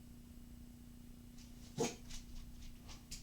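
A dog gives a short sharp bark followed by a few faint whimpers and yips, heard in the background of a quiet indoor room with a steady electrical hum.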